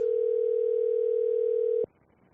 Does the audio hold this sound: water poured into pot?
no